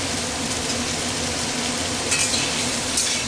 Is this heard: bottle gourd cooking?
yes